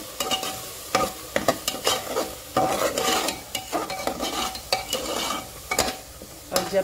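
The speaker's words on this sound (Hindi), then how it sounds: "और इन सबों को अब मैं थोड़ा भून जाने देती हूँ" Spices and salt fry in a pan for green pea dal while a spoon stirs them briskly, giving a rhythmic series of scrapes and knocks over a steady sizzle.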